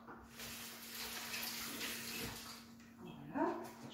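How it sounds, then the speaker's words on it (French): Hands being washed under a running kitchen tap while cooking chorba, a soft, steady stream of water with light splashing, close and fairly quiet, and a brief clatter near the end. "je me lave les mains"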